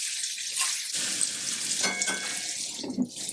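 Bacon and Brussels sprouts cooking in a covered pan, giving a steady, soft hiss and sizzle that runs the whole time with a few faint clinks.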